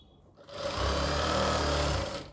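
An electric sewing machine stitches a long designer kurti, its motor whirring up after a quiet start and running as one steady, close, fairly loud burr for about a second and a half before slowing.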